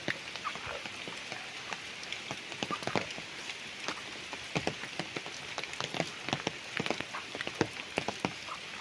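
Steady rain pattering on a rural farm lot in Lumban, Laguna, with dense drops striking surfaces close by and continuing unbroken throughout, no voices present.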